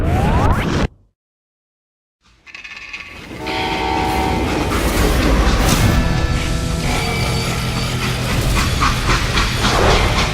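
In the Western shooter game Call of Juarez Gunslinger, a moving train rumbles and clatters after a brief silence, rising into a loud, continuous roll of wheels and cars with horn-like tones and rhythmic clicking.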